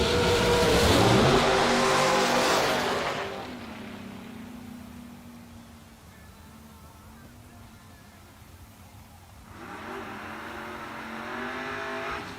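A drag racing car accelerates down the track at a drag racing event. Loud engine roars open and close the stretch, with a quieter, fading engine tone between them.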